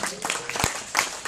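Comedy club audience at Zanies in Rosemont, Illinois, giving a brief burst of scattered clapping with a few louder claps and crowd murmur.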